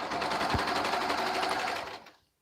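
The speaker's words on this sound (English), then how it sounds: "I sew all the cuffs and all the liners to the rompers at the same time." A sewing machine runs steadily at close range, stitching cuffs and liners onto children's rompers, then cuts off abruptly near the end.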